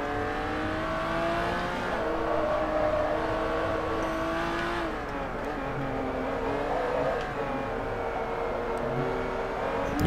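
A race car in the video game Forza Motorsport 3 drives a track, its engine holding a loud, continuous high-pitched whine that rises and falls with shifts and revs throughout, close and without talk.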